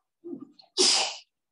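A single sharp sneeze, preceded by a brief soft intake of breath, close and fairly loud, then silence.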